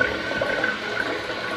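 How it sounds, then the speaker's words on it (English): A toilet cistern refills after an inlet valve repair for slow filling, with a steady loud rush and hiss of incoming water close by, unbroken for the whole short stretch. "That's a good fill."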